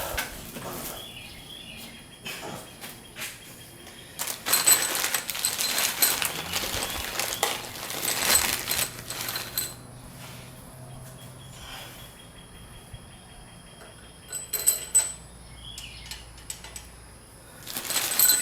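Pre-greased engine parts dropped into the head of a Ford Ranger/Mazda B engine, giving scattered close metallic clinks and rattles in irregular bursts with quieter gaps.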